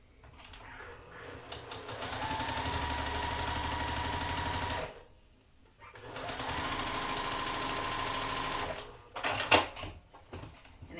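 A sewing machine stitching strips onto a quilt block runs in two long, steady rapid-fire bursts of several seconds each, separated by a short pause, followed by a few handling clicks.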